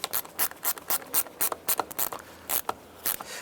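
Short repeated ratchet clicks in quick bursts as a bolt is snugged on the alternator of a 2004-2009 Dodge Durango, close and fairly loud with no talking.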